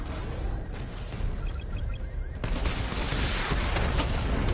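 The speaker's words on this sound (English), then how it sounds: "Missile barrage level 2 ready." Missile barrage fired by Batman in Batman: Arkham Knight: a dense, continuous rumbling salvo of launches and blasts that builds louder partway through, with no voice over it.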